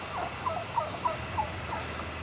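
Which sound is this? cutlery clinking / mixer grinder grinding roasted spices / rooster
rooster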